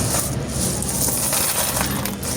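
A pile of mixed Philippine peso coins, 1, 5, 10 and 20 peso pieces, is stirred and handled close up. The coins make a continuous loud metallic jingling and clinking without pause.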